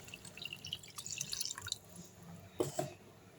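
Tamarind water for a fish curry trickles into a pan, giving faint, scattered drips and small splashes, with a slightly louder splash near the end.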